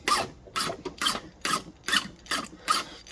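A hand file rasps rhythmically across chainsaw chain rakers on a 20-inch .325 chain, about seven short scraping strokes in steady succession, close and crisp, with no talking.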